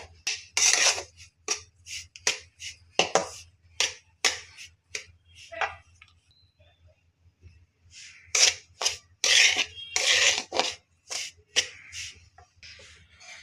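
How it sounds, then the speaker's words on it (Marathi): Rava (semolina) is roasted and stirred in a pan for laddoos, with crisp, rapid scraping strokes coming in bursts and separated by short pauses, close and clear with no talk. "आपण रवा भाजून घेऊया"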